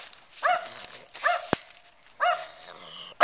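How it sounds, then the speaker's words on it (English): Dogs behind a fence barking from a distance, three separate bursts of barks with quiet gaps between them and a sharp knock partway through. "go and brave these barking dogs that are yapping at you"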